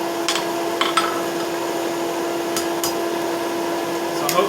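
A hammer strikes A36 mild steel during forge welding, with a handful of sharp, ringing metallic blows spaced irregularly over a steady mechanical hum, likely the forge blower.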